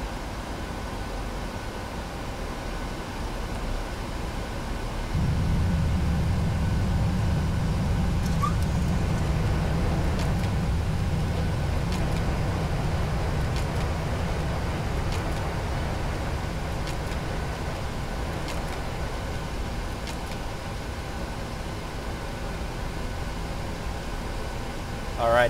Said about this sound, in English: the reverse thrusters are stowed, and I'm now manually braking the aircraft